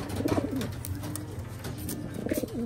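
Pigeons coo close by in soft, rolling low-pitched phrases, one at the start and another near the end, with faint rustling and background noise in between.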